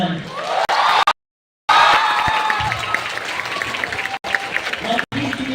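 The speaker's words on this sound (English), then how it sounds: "Give a cheer if you think that Maharaj has won." A school academics day audience cheers and applauds loudly in a hall, with a dense burst of clapping and whoops broken by a short gap, while voices carry through the crowd noise.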